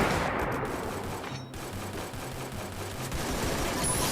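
Dense gunfire in the shooter game Free Fire, a continuous loud crackling barrage of rapid shots with a low rumble underneath, filling the whole stretch without pause.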